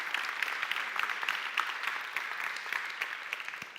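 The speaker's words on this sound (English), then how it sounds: "give a round of applause to Manon, our speaker from yesterday" Audience applause for a speaker at a live AI summit session, dense steady clapping from a crowd filling the whole stretch at moderate level with no talking over it.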